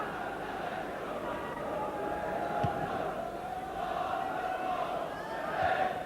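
A football crowd at Norwich City against Manchester City keeps up a broad, steady roar of applause and noise, while a commentator talks over it throughout.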